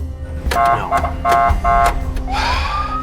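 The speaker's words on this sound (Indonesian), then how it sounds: "Namun yang terdengar justru bunyi sirene." A loud, close siren blares in repeating two-tone bursts, then slides into a rising wail, with rumbling background noise underneath.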